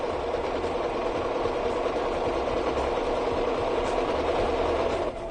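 A sewing machine runs steadily, stitching a large fabric piece for a sofa throw along the outside of the seam line, giving a continuous even mechanical whir with no pauses and no talk.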